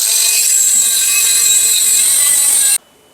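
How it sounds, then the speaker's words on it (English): Die grinder cutting through a wheel bearing and spacer on a Nissan Titan axle shaft: a loud, steady high-pitched whine with a grinding edge that runs continuously and then cuts off abruptly near the end. "Now we're gonna remove this bearing and spacer using a die grinder."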